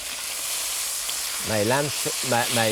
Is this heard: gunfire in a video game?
no